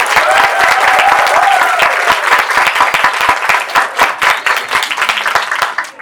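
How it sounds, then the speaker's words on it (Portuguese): A crowd applauds loudly, with close, dense clapping that thins into scattered claps toward the end. "Então, também quero uma salva de palmas para a Camila."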